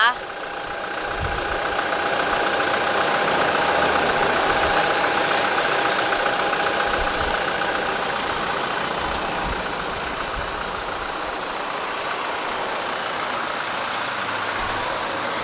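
A car engine idles steadily with a low, even rumble and a faint whine, running continuously without revving.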